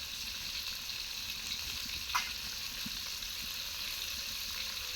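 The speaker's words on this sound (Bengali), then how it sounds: "তো আমি আস্তে আস্তে জাল দিয়ে মাছটা ভেজে নিব" Silver carp pieces fry slowly over low heat in a pan, giving a steady, soft, even sizzle throughout with one brief louder crackle partway through, no voices.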